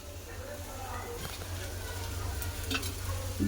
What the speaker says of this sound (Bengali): শাক ভাজা আমার হয়ে এসছে